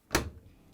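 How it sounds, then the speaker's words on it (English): A dishwasher door on a Bosch-type machine shuts with a single soft thud followed by a brief fading rattle, close and alone. "And close the door."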